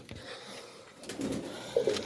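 Large Ferozpuri pigeons in a breeding loft give low, soft cooing, a few brief calls rising toward the end over quiet handling noise.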